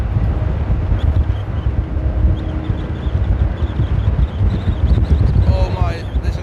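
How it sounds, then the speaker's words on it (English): Strong storm wind gusts buffet the microphone at Amsterdam airport, rumbling and roaring loudly in uneven surges, with a distant engine tone rising near the end. "Oh my, listen to those wind gusts."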